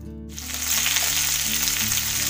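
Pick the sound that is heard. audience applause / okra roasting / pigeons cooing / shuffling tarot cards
okra roasting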